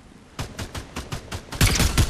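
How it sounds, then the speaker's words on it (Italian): Gunfire in the Fortnite video game comes as a rapid run of sharp, loud shots, about a dozen evenly spaced, with the final burst heavier and denser. "Mo' gli sparo."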